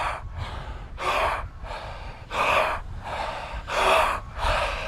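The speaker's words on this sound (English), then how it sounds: "get that gasp, good." Sharp open-mouthed gasps during a breathwork exercise, about seven in a steady rhythm of deep inhales roughly every half second to second, close and fairly loud with no talking.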